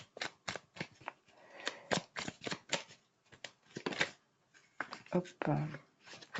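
Tarot cards are shuffled and flicked down in quick, crisp bursts up close, with short rustling slaps spread across the clip and a brief spoken word in between.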